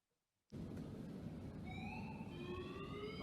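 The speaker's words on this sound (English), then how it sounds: "There you can hear the alarm going off." A loud electronic fire alarm from a fiber-optic linear heat detection system switches on abruptly after a brief silence and keeps sounding steadily, with rising tonal sweeps layered over a constant harsh drone.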